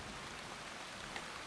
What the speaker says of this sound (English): Rain sweeps in and brings mist with it.